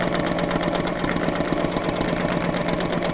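A sewing machine runs over previously stitched lines on fabric backed with wadding, giving a steady, rhythmic motor whirr with fast repeating stitch pulses, moderately quiet and alone.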